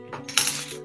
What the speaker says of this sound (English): they're light, but they're metal, as you can hear it. They're metal coins